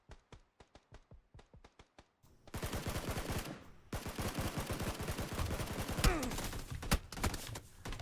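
Full-auto gunfire in PUBG: a string of evenly spaced single shots, then long continuous automatic bursts, moderately loud with no talking.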